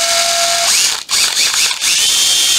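Makita 14.4V brushed drill driver with a 13 mm auto-lock chuck, running close and loud: a steady high whine that climbs in pitch partway through, dips briefly twice, then settles into an even spin.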